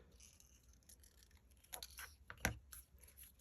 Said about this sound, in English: So I'm going to cut this off.